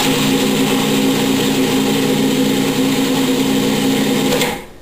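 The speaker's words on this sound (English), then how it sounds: "So here I've got my cilantro ready to go, and just get that locked down and" A food processor chopping cilantro runs as a steady, loud motor whir with a constant hum, then spins down and stops near the end, with no talking over it.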